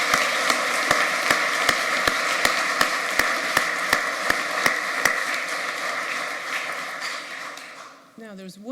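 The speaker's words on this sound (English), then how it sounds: "We give a round of applause to all the new members." Audience applause for new members at an MRCPI college ceremony, broad continuous clapping with a few sharp, regular louder claps near the front, fading toward the end before a voice comes in.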